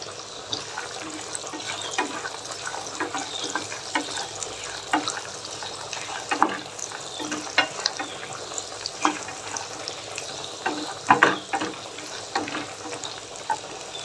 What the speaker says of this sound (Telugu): ఇప్పుడు కొంచెం జీడిపప్పు వేసుకున్నాం కొద్దిగా వేపుకున్నాం మంచిగా